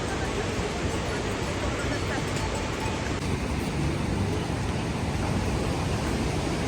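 A waterfall beside the Kedarnath trek near a bridge gives a loud, steady rushing roar that holds at one level throughout, with no breaks or swells.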